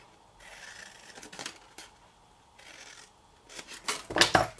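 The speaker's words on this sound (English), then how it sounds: "we'll take that out first and then cut up the score lines that run by it" Scissors snip through a card treat box template along its score lines, a few close, crisp cuts with quiet gaps, the final snips louder and longer.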